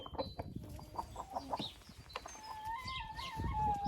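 Hens clucking inside a chicken coop, a close, fairly quiet run of short clucks and soft calls with a drawn-out note near the end.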